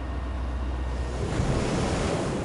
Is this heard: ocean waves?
yes